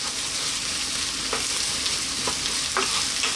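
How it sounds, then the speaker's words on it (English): Garlic ginger paste frying in a hot pan for a vegan mustard leaf curry, a dense continuous sizzle with a few sharp stirring clicks, close and loud, no voices. "What we're going to do now is add in our garlic ginger paste."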